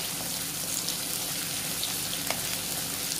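Ground roasted coconut sautéing in a pan for a jackfruit curry, a steady soft sizzle and crackle running close and even throughout with faint stirring scrapes.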